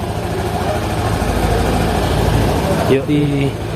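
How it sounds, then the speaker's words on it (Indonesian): Honda Scoopy 110 cc scooter idling smoothly, a steady low engine hum close by with a brief change in tone near the end, while a person talks over it. "bunyi mesinnya halus kok teman-teman, karena ini juga tergolong cc kecil ya, 110 cc ini teman-teman"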